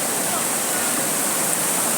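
Floodwater rushes through a community in a steady, loud, dense roar with no breaks, like a fast torrent pouring over a crossing.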